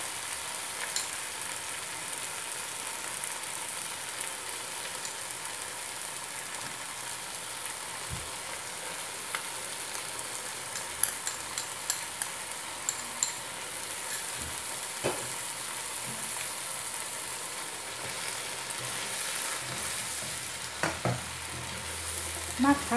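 Chicken with ginger stir-frying in a pan, a steady close sizzle running throughout with occasional scraping and clinks of a utensil stirring.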